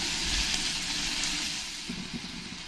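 Chopped tomato goes into a frying pan of ginger-garlic paste, raising a loud, steady sizzle that softens into gentler crackling after the pieces settle.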